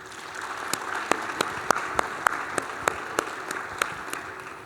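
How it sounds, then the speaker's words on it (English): Audience applause for the panelists at the close of a WorldPtX Summit 2025 panel on power-to-talents, a steady wash of clapping with a few sharp louder claps standing out, moderately distant and without speech. "Please join me in an applause for them"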